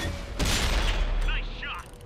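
A tank cannon fires in World of Tanks on Xbox One with one sharp, booming blast and a rumbling tail, followed by faint game sounds and some voice.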